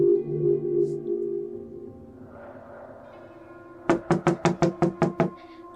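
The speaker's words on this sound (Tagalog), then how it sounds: "Pagkatapos marinig ang sunod-sunod na katoka sa labas ng kanilang pintuan." Repeated knocking on a house's front door: about eight sharp, evenly spaced raps in quick succession, loud and close. They follow a stretch of sustained tonal background sound.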